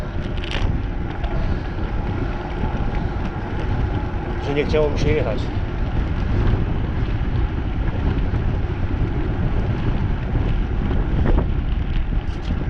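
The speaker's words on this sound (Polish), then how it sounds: "Zależy jak się obrócę, tak będzie wiało." Wind buffeting an outdoor microphone while a cyclist rides and speaks in Polish, a constant loud low rumble and roar that persists under her voice for the whole stretch.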